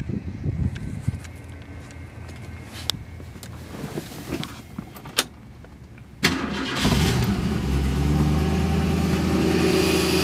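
A 1965 Ford Mustang convertible with an original 289 V8 cranks with a few sharp clicks and starter whirs, then catches around six seconds in and settles into a loud, steady rumble close by.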